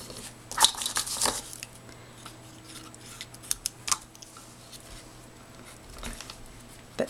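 Scissors snip through washi tape close by, a few quick sharp cuts early on followed by softer scattered clicks and rustles against quiet.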